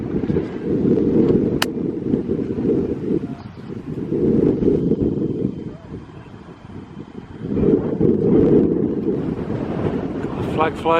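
Strong wind buffets the microphone on the exposed escarpment at Broadway Tower in the Cotswolds, a loud, low roaring rush that swells and eases in gusts throughout, with a brief faint voice near the end.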